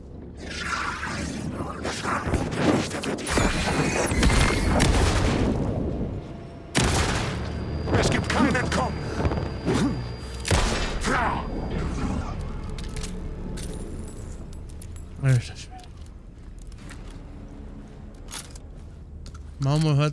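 Gunfire in the video game Alan Wake II: sharp cracks and booming shots crowd the first few seconds, then sparser single reports and impacts follow over game ambience.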